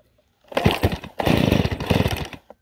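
A chainsaw being started by a 70-year-old woman catches after a pull of the cord, its small two-stroke engine sputtering into a loud, uneven rattling run, briefly cutting out, then roaring again before stopping.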